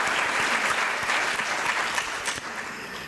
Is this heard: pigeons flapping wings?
no